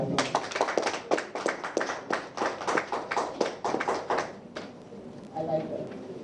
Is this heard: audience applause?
yes